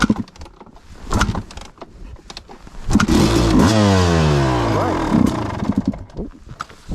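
A cold two-stroke motorcycle fitted with a Lectron PRO Series carburetor kicks over a few times, fires, and revs up in a loud, rising and falling run before dropping back, with fuel on and choke up.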